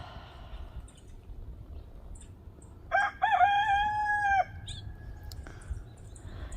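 A rooster crows once at middle distance in a quiet rural riverside village, a loud rising then sustained call lasting over a second, with faint low background hum and a small click after.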